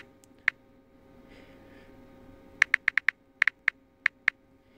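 Keys clack on a computer keyboard as a name is entered: one lone tap, then a quick burst of about ten crisp, close strokes in an uneven rhythm over a quiet room with no speech.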